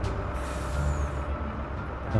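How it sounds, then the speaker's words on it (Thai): Steady, heavy engine drone from road-building machinery in Farming Simulator 19, with a low rumble and faint hiss, continuous and fairly loud throughout. "เสียงเครื่องจักรดังนิดหน่อยครับ"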